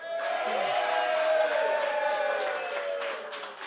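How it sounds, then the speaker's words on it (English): Studio audience at a racing radio show giving a round of applause, a moderate, fairly even wash of clapping lasting a few seconds, with a faint tonal hum underneath. "So give me your best round of applause."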